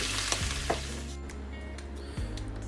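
Asparagus frying in a pan turning deeper green, a steady close sizzle with a few stirring clicks and a brief disturbance near the end, no talking.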